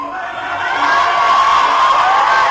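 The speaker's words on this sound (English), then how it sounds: "That is only for the cheering, not for the award." School students cheer and shout as a loud crowd at an awards ceremony, a sustained wall of high voices swelling after the first half second and holding steady throughout.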